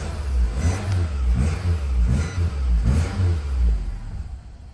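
A Nissan car engine cranks and turns over with a transponder key, giving a low rhythmic churning pulse that rises and falls several times, recorded up close with no voices.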